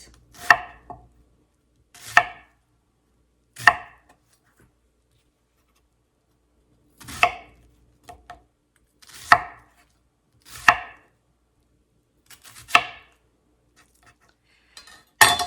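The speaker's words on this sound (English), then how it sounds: "I'm just gonna cut it in half like that. And then slice." Knife slicing halved onions on a cutting board, heard as about eight crisp, separate chopping strokes spaced a second or two apart, close and fairly loud with quiet gaps between them.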